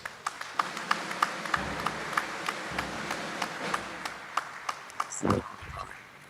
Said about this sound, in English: the Honorable Minister deserves a thunderous applause